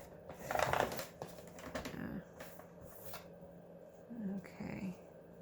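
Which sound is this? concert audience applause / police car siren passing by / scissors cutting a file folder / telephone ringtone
scissors cutting a file folder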